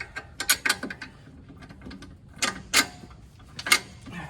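A Volvo XC90 wheel hub is wiggled back and forth to push strut bolts in, giving a series of sharp metallic clicks and creaks in small irregular clusters, close and fairly quiet.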